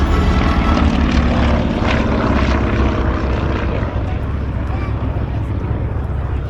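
Big radial-engine warbird, a Pratt & Whitney-powered fixed-wing airplane, passing at the Capital Airshow at Mather Airport, California, with a loud, steady propeller drone and a deep engine rumble throughout, while a voice talks over it.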